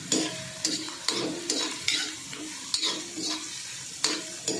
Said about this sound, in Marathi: हिरवी मिरची आणि लसूण आता मी गॅस जरा फास्ट करते आणि हे व्यवस्थित परतून घ्यायचं